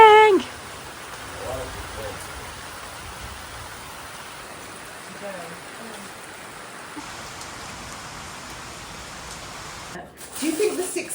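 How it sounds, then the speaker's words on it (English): Steady rain pours down outside during a stormy Sunday lunch, a continuous even hiss of drops, with a brief voice at the start and again at the end. "It's raining!"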